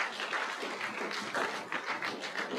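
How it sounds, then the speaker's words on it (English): Audience applause at a Saint Paul and Ramsey County civic announcement inside the Osborne building, a fairly quiet, steady patter of many hands clapping with no voices. "Please give them a round of applause."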